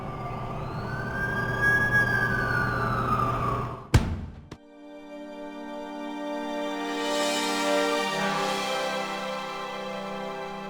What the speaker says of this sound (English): That's the ambulance I called.